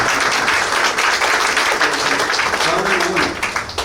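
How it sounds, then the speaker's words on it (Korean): An audience at a 2019 policy forum gives a dense round of applause for the presenters and discussants, loud and steady before tapering at the end, with a voice faintly beneath it. "우리 발표자님과 토론자님께 큰 박수로 감사드리겠습니다."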